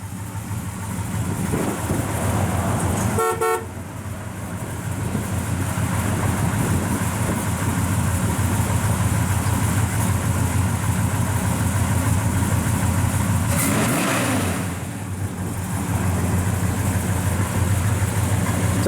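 A 1970 Chevrolet Monte Carlo with a 454 V8 and aluminum intake cranks briefly, then catches and settles into a loud, steady idle heard up close, with a short rev partway through.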